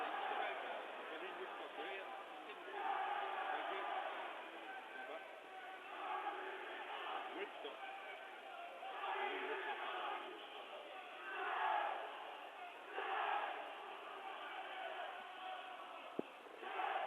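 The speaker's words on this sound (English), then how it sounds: "the little war cries that the South Sea Islanders have done through the duration of this tournament" Fiji's rugby team, led by its captain, performs the Cibi war cry at a 2007 Rugby World Cup quarter-final, a rhythmic chant of voices rising and falling over steady stadium crowd noise for the full stretch.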